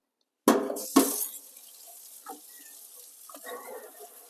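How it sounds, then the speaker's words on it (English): A pot is filled with cold water from a kitchen tap: a sudden close gush starts, then the stream settles into quieter splashing and trickling with a few clinks. "But let's fill this with water."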